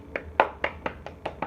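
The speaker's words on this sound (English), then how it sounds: "give yourself an applause" Hand clapping, seven sharp claps in a quick, even rhythm, close and moderately loud with nothing else heard.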